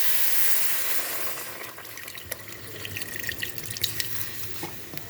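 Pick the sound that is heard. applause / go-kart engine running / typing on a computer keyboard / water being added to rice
water being added to rice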